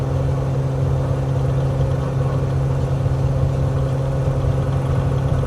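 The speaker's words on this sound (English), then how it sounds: "Revving the aircraft up a bit." Steady droning engine of an aircraft in Microsoft Flight Simulator, run up in rough weather, holding a constant loud hum with a strong low tone and no voices.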